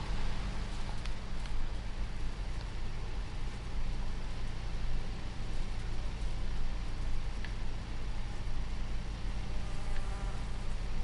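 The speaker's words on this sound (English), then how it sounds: "Buzzy bee. Lots of them buzzy bees." Swarm of bees buzzing in the Farming Simulator game on the alpine Erlengrat map, a steady dense hum with faint whining tones running the whole time, no talk.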